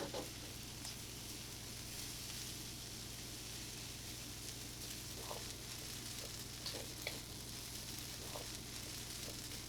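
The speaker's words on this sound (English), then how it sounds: "We continue by adding the diced vegetables. We stir them in, and our delicious meal is ready." Diced vegetables stirred into egg fried rice with bacon, sizzling and frying steadily in a hot pan, a continuous close crackle with faint scraping stirs and no talking.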